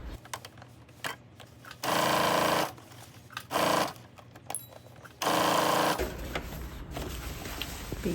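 A sewing machine stitches along a fabric strap in a few loud, rapid bursts of needle clatter, separated by quiet pauses and faint handling sounds.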